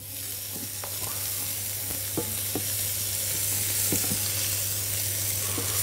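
Onion and garlic fry in ghee, hissing in a bright continuous sizzle with a few soft stirring knocks, close and steady throughout.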